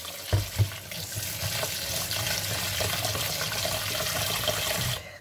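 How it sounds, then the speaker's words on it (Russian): Dyed Devzira rice is rinsed in water in a kitchen, with a steady rush and splash of running water, a couple of louder knocks near the start, and the flow cutting off at the end. "Промывать нужно на несколько вод."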